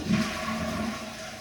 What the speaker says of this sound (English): And it flushes.